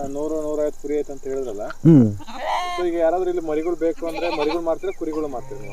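Sheep from a dryland flock bleat nearby in several wavering calls, one sharp and loud, with more bleats following in a restless flock.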